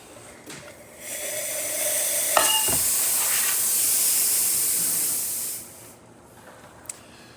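A La Pavoni espresso machine lets out a loud, steady hiss of steam for several seconds, then cuts off abruptly, with a few faint clicks before and after.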